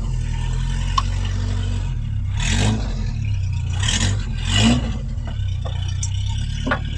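A 1971 Toyota Celica TA22 project car moving under its own power, with a low steady engine rumble and a few short revving bursts, fairly close and without talk.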